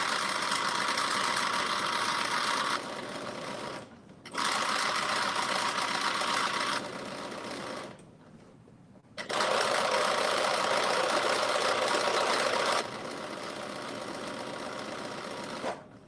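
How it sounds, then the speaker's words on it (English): A sewing machine runs in long bursts while stitching a second row along the seam allowance of a drop-shoulder long-sleeve top, a close steady mechanical whir with brief pauses, each run shifting slightly in speed. "we're doing our second row of stitching on one side"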